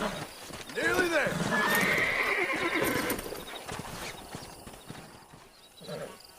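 Horses whinny loudly and hooves clop steadily in Red Dead Redemption, with one long neigh followed by trotting footfalls and a fainter whinny near the end.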